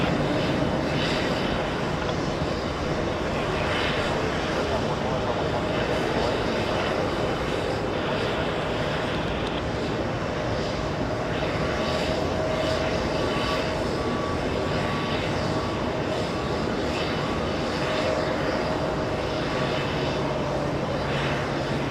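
A JetBlue Airbus A321 airliner departing JFK for Orlando fills the air with a steady, broad jet engine roar that holds without pause, distant but dense, with a faint tonal whine running through it.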